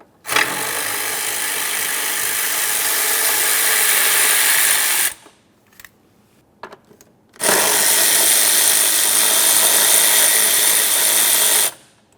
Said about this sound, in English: Now we'll pause with the wiring and remove the mounting hardware. The mounting hardware for this is 3 10mm headed mounting bolts.